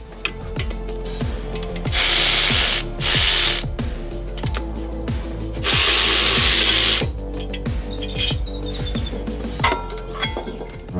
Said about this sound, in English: I'm gonna remove the whole caliper bracket. 17 millimeter for the caliper bracket